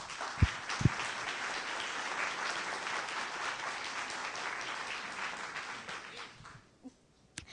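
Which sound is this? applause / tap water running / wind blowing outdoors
applause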